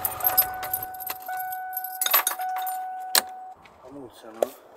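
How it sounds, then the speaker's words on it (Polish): A car engine shutting off on a roadside stop with slightly overheated brakes, followed by a close jingle of keys and a few clicks, with voices in the background. "Może zgaszę silnik, co?"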